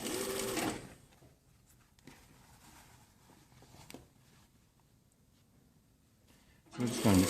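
A sewing machine stitches a 1 cm seam along a jacket sleeve with a fake vent, pivoting at the corners. Loud bursts of motor whir open and close the clip, with quieter handling and faint stitching between them.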